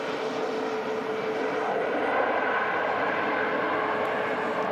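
A Ryanair Boeing 737 Max jet taxis at Manchester Airport, giving off a steady, fairly loud engine roar with a faint high whine. It holds an even level throughout, and no one speaks.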